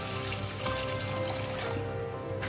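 Water poured onto boneless chicken pieces in a pot for cooking: a close, continuous pouring and trickling sound lasting a couple of seconds, fairly quiet and alone.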